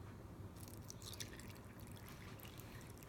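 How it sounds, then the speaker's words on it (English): Water pours from a blender bottle into a Vitamix blender jar, a faint, quiet trickle and splash that drips and sputters irregularly over a low background hum. "Let's pour our water in there."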